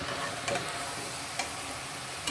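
Brinjal sautéing with salt and turmeric in a pan, a steady soft sizzle with a few light spoon taps against the pan, fairly quiet and close.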